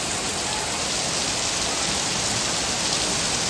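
Heavy rain pours steadily and loudly, a dense continuous hiss of drops hitting the ground and surfaces throughout, with no voices.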